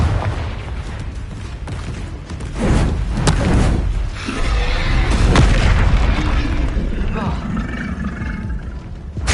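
Confringo blasting spell explosions, a run of heavy booms and roaring bursts one after another at close range, with shouted spell incantations between and over the blasts.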